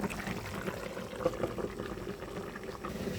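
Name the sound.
tempering bay leaves, cumin and radhuni in hot oil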